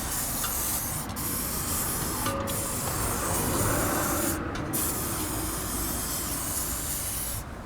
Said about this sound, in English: now to get some WD-40 penetrating fluid. Spray that up